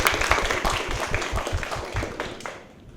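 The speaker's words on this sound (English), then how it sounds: "Please join me in giving everybody a round of applause." A short burst of audience clapping for panelists at a university mental health panel, rhythmic overlapping claps close by, tapering off over three seconds.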